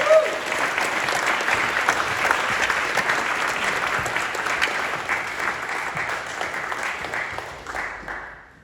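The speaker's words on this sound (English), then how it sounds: "Don't clap for poets" Steady, full audience applause at a Sunday Assembly gathering welcoming a poet, sustained and fairly loud for most of the stretch before fading at the end.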